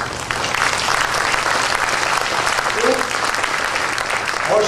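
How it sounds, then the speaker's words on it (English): An audience applauds at a seafarers' event, a dense, continuous clapping that stays loud throughout, with a brief voice surfacing near the end. "shall we give an applause to the seafarer wives and families"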